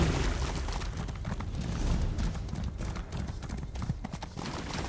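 Steady, rapid hoof clip-clops of a galloping horse in Elder Scrolls Online, loud and continuous with a rumbling low end.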